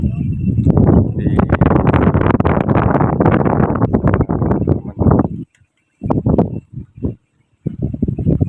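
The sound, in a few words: strong wind at a rice field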